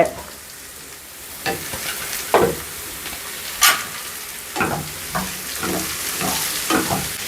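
Onions and chopped coconut pieces sautéing in a pan for a jackfruit theeyal, a steady soft sizzle broken by repeated scraping stirs of a spatula, close and alone with no talk.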